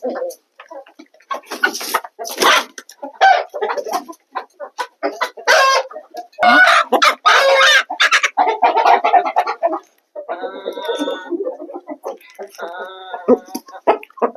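Chickens clucking in busy, irregular bursts close by, with a rooster's calls among them and voices talking intermittently.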